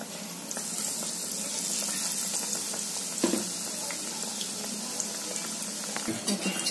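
A bread sandwich pakoda, dipped in a medium-thick batter, fries in hot oil, giving a steady close hiss and sizzle throughout with a few brief pops.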